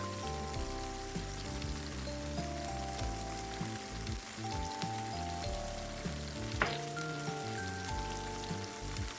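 Garlic and curry powder fry in a pan for chicken curry, giving a soft, steady sizzle and crackle beneath background music, with one brief sharper clink near the end.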